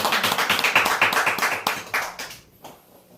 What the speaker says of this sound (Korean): 축하로 우리 박수 한번 드리겠습니다